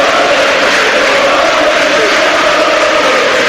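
Steady, dense roar of a large football crowd at Elland Road during a 0-0 night match between Leeds United and West Brom, a continuous broadband din holding level throughout without breaks.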